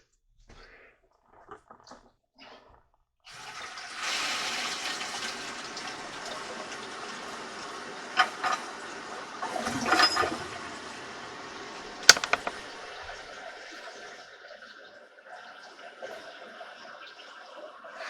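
A toilet bowl being flushed during a ring-cleaning test: a steady rush of gushing water that starts abruptly and runs for many seconds, with a few knocks and clunks partway through before the flow tapers off.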